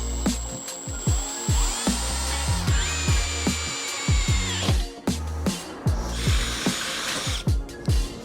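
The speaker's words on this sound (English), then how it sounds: "So now we can just drill these holes and hope for the best." Power drill boring holes into the body panels of a Nissan Bluebird, a loud steady whine with repeated bursts and sharp knocks as the bit bites and stops, close up throughout.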